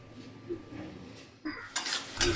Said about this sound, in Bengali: এইভাবে নাড়তে চাড়তে থাকবো, তাহলে কিন্তু তেল বেরোবে।